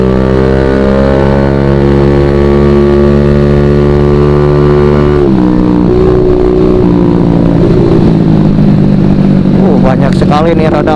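Heavy stop-and-go traffic of cars and motorcycles on the congested road between Ciwidey and Soreang, heard from a carbureted Honda Beat scooter as a loud, steady engine drone with a pitch shift partway through and the rider talking over it.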